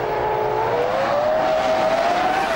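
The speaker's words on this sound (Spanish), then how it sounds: "Aquí vemos un arranque controlado por ingenieros." A Formula 1 race car accelerates hard at a race start, its engine note climbing steadily in one loud, continuous, close-up roar.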